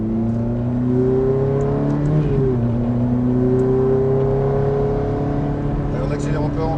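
A Ferrari sports car engine revs and pulls steadily on a coned course, its droning note rising and shifting through a gear change, loud and close throughout.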